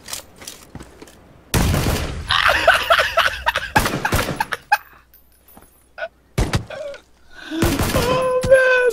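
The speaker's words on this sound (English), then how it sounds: "Toss a grenade in there" A grenade goes off in a first-person shooter video game, a loud booming blast with a crackling tail, surrounded by scattered shots and bangs, with quieter gaps and more loud bursts later.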